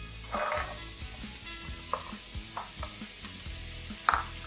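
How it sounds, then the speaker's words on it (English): Onions and chopped potatoes sauté in a pan with a constant sizzle, while a spoon scrapes and stirs in short, irregular strokes, including one sharp metallic tap near the end, all close with no talking. "Saute this till the onions are soft."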